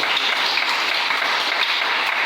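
A church congregation applauds the Lord together, steady dense clapping that holds at an even, loud level throughout, with no voices over it.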